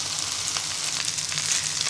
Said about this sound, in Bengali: এবার সেদ্ধ করা নুডলসটা দিয়ে দিব।